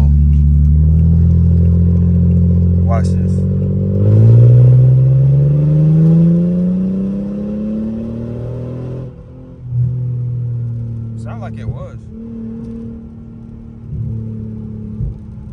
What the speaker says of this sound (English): car's driving, but it ain't shifting at all